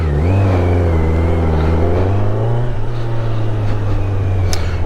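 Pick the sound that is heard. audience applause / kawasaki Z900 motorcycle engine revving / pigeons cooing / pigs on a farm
kawasaki Z900 motorcycle engine revving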